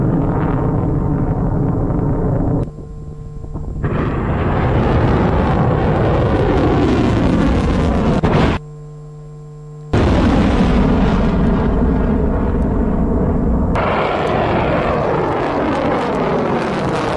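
Explosions as Iranian fighter jets are destroyed: loud, sustained roaring blasts with rumbling low end, briefly cut by a sharp gap and resuming, continuous and heavy throughout without talk.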